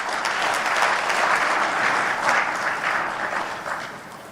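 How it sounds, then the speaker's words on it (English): Audience applause at an official launch of the African Peer Review Mechanism by the Zimbabwean president, continuous clapping that swells and ebbs slightly, then fades toward the end. "let's give him another round of applause"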